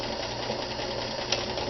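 A vintage Kenmore 158.14100 sewing machine motor runs steadily at a moderate speed, a continuous even whir with a faint brief tick near the end, heard alone and close.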